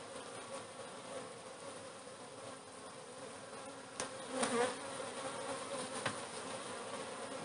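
Honeybees buzz steadily around an open multi-story beehive, a dense close hum that swells briefly with a few louder passing buzzes midway.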